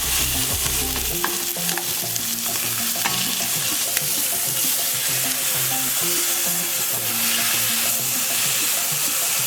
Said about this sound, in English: you're gonna wanna sear this for about 3 minutes on each side